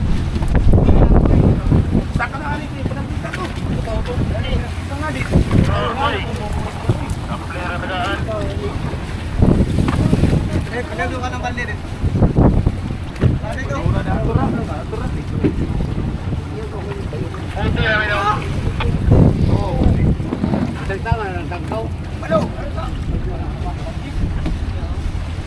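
Strong wind roars over a fishing boat on rough sea, with constant heavy gusting and buffeting noise. Water sloshes and people talk intermittently underneath.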